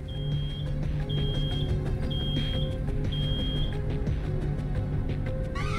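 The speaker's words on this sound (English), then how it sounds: "Oh no! Something's beeping!" Repeated electronic alarm beeps from the video game Road 96, sounding in regular bursts roughly once a second over a steady, loud background of game music and ambience.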